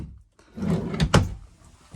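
A small bathroom drawer under a ceramic basin in a 21ft Condor Ultimate Family caravan, giving one short, close sliding rumble that ends in a solid thunk.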